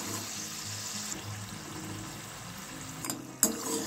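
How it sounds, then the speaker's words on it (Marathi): Pieces of shankarpali dough sizzle in hot oil over a low flame, a steady, fairly quiet crackling hiss with a couple of sharper pops near the end. "लो फ्लेमवरती छान असे खुसखुशीत होईपर्यंत तळून घ्यायचे आहेत"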